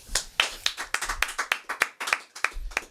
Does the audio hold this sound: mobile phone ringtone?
no